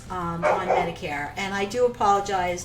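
A dog in a home office keeps barking in the background, several short barks mixed under a woman's continuous speech, fairly faint and partly masked by her voice.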